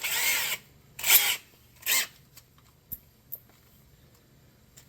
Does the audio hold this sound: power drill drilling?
yes